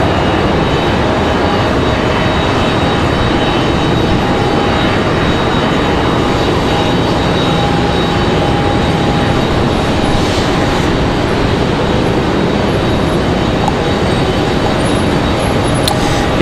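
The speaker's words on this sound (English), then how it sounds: "Pushback of our 737-700" Dense, loud, steady rumble and whine of a Boeing 737-700 airliner being pushed back at Raleigh Durham International Airport, continuous without breaks, with faint thin tones running through the roar.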